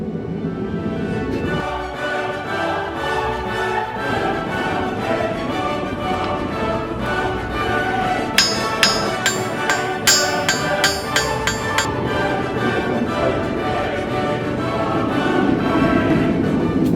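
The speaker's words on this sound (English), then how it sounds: "Now I'm going to use the cross peen to spread that out." A cross peen hammer strikes thin hot steel stock while forging J hooks, with clear, ringing metallic blows repeating in a quick, uneven rhythm, loudest in a burst partway through.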